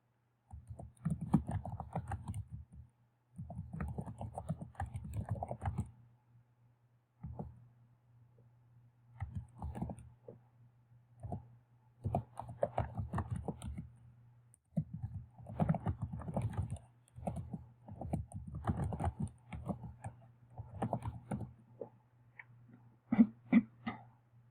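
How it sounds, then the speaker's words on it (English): Typing on a computer keyboard, heard as quiet, close bursts of rapid key clicks separated by short pauses over a low steady hum. "Let's type a little something here."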